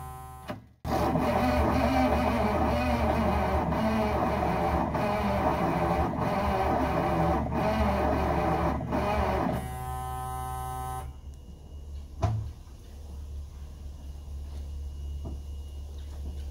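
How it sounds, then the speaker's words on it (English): Engine of a neglected army truck cranking over slowly, a loud steady buzzing starter drone with rhythmic pulses that stops abruptly, leaving a low hum and a sharp clunk. "Well, it does crank over, so it's not locked up."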